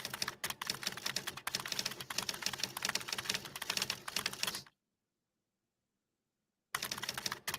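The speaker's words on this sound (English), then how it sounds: "my famous typing effect. I do this on my videos" Rapid clicking keystrokes from a typing sound effect rattle in dense bursts for several seconds, stop dead in silence, then resume briefly at the end.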